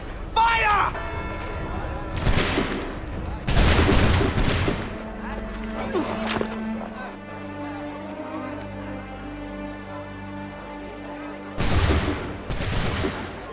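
A musket volley in Assassin's Creed III comes as several broad, loud blasts spaced across the stretch, with a pair of final cracks near the end, over game ambience and voices.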